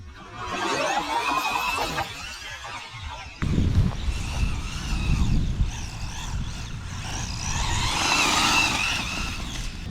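Rlaarlo AM-D12 RC car drives through long unmowed grass, its electric motor whining and surging near then farther off, with brushing, thrashing noise from the grass and shifting pitch as it powers along.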